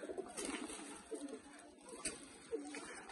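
Sialkoti pearl-type pigeon chicks coo softly in short, repeated vibrating bursts at close range. The sound is faint, with a steady background hiss.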